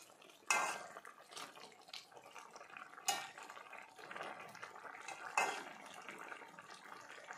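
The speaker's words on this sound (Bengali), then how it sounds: "জিরে বাটা দিয়ে একটু নাড়িয়ে দিলাম।" A utensil stirring cumin paste into a thin papaya and fish curry in a pot, three distinct metallic clanks against the pan with soft bubbling and scraping between them.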